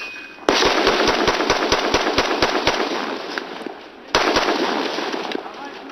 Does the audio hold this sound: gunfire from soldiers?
yes